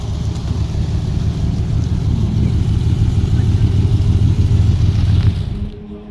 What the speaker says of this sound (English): Oh, I'm going to get run over by a Lamborghini.